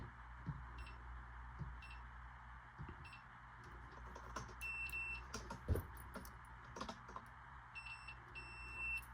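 A multimeter gives faint, brief continuity beeps during checks on the ignition of a 1977 Evinrude 115hp outboard, with several short tones over a low steady hum.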